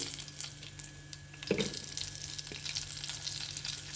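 Turmeric goes into hot oil in a pan before eggs are fried for a Telugu egg curry, giving a soft, steady sizzle with a brief louder spatter midway and faint kitchen clatter.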